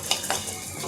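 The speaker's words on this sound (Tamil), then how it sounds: "எல்லாத்தையும் நல்லா வறுத்துட்டு" Spices dry-roast in a pan for a garlic curry, giving a steady soft sizzle and rustle broken by a couple of sharp scraping stirs, close and moderately quiet with no talking.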